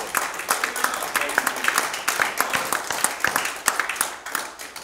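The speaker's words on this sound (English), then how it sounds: "Give Him a hand clap this morning." A church congregation clapping during a Sunday service, with sharp irregular handclaps that come close and loud in rapid bursts, and voices mixed in among them.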